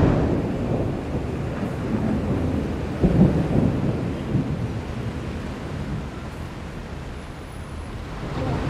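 Heavy rain in Bosnia pours as a steady dense roar, with a low rumble of thunder partway through, constant and enveloping with no voices.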